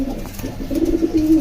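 Pigeons coo in a low, throaty, repeated murmur, the calls rising and thickening toward the end, close and fairly loud with no talking.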